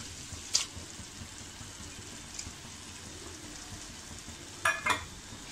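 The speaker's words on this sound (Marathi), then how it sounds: "आता आपण याच्यामध्ये ही कोळंबी टाकूया." Prawns drop into sizzling tomato and onion gravy for prawn biryani, a low steady frying hiss broken by a couple of brief sharp clatters near the start and end, with no talk.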